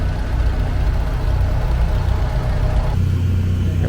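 An antique 1966 1206 diesel tractor engine runs steadily with a low, throbbing rumble at an outdoor tractor show, loud and close, with a slight shift in tone near the end.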